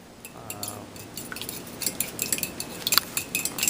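Eggs being beaten with a fork in a bowl, heard as a run of quiet clinks and taps that pick up pace and grow busier toward the end, with no talk.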